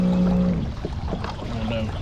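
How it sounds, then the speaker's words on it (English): Small motor on a kayak on a Texas lake, labouring with something caught in it, heard as a rough, uneven drone with faint watery sounds underneath. "Sounds like something got caught up in the motor."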